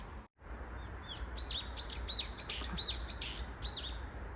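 Bird chirping in a series of short, bright tweets repeating every half second or so over a steady outdoor background hum, among hills and fields near Seoul, South Korea.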